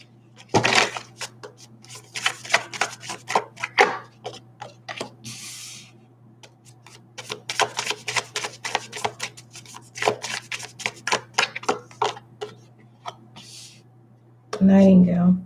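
Tarot cards are shuffled by hand close up, with bursts of crisp riffling and rapid flicking snaps that come in uneven runs, with a spoken voice at the very end.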